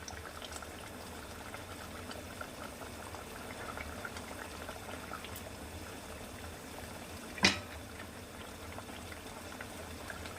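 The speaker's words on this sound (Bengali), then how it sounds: "ঝোল পুরো ফুটে উঠেছে।" Fish curry broth boils in a pan on high flame, a quiet, steady bubbling simmer with one brief clink partway through.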